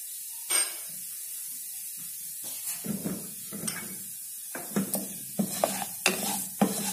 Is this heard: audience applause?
no